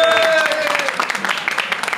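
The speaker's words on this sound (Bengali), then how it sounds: "শুরু হলো করতালি।" A crowd applauds as a prize winner arrives at a lively event, with rapid, dense clapping and a brief high tone at the start, while voices talk over it nearby.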